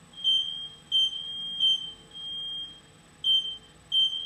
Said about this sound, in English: my fire alarm's going off and it's not really turning off